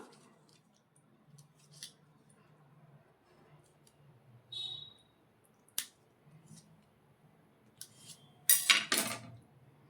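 A knife cuts roasted paneer into small pieces, giving sparse close taps and clicks against the surface, with a sharp snap midway and a brief cluster of louder clattering knocks near the end; no talking.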